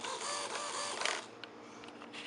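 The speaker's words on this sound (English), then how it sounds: "There's the servo in action." Servo on a 3D foam RC airplane driving a control surface, a thin mechanical buzz close by in quick whirring movements, fairly quiet, with no talk.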